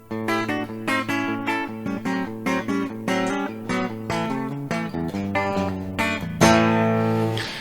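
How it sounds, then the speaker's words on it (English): Semi-hollow electric guitar played through its bridge pickup, a bright run of picked notes and chords close and loud, ending on a ringing strummed chord, with no talking. "That is a quick demonstration using the bridge pickup."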